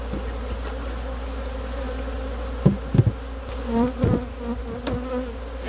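Angry honeybees swarming around an aggressive beehive, a dense, continuous buzzing drone close by, with a few louder bee passes and some dull knocks near the end.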